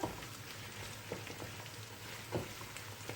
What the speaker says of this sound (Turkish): Hafifçe bir de salçayla kavuralım